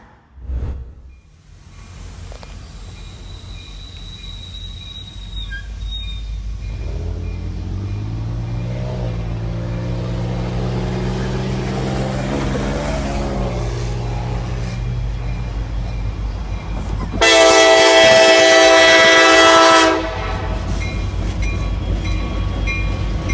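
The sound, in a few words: train horn as a car plays chicken with a train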